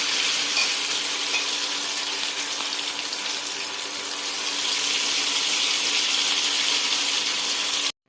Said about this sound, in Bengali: এর মধ্যে চুবিয়ে এবার এগুলো এক এক করে ভেজে নেব।